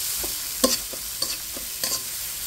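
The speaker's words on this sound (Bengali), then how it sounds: "এখন একটু নেড়ে চেড়ে মিশিয়ে দিচ্ছি।" A spoon stirs turmeric, chili and coriander-cumin powder in a pan of sizzling oil for fish head and tail curry, with several quick scraping strokes over a steady soft frying hiss.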